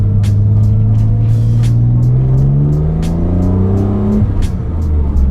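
A 1988 BMW M3 with an S50 engine roars hard as it accelerates, its pitch climbing steadily through the rev range before a shift, with faint clicks over the top.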